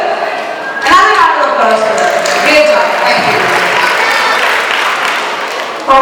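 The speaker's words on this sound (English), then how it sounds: "Another round of applause for them." Audience applause at an Ugadi festival stage show, a sustained broadband clatter of clapping that swells in after a brief pause and holds steady, with a host's voice briefly over it.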